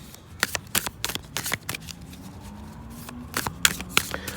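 Tattoo Tarot cards being shuffled by hand, a close run of crisp riffling snaps and soft paper flutters in irregular bursts, with a faint low hum underneath.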